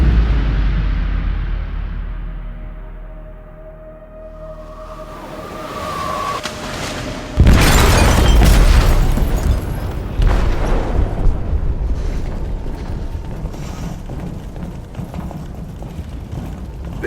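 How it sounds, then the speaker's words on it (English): An explosive detonates in a ship's hold in Detroit: Become Human, a sudden loud blast after a quiet rumbling lead-in, followed by sustained roaring, crashing debris and lingering rumble. "They detonated an explosive in the hold. The ship is sinking, sir."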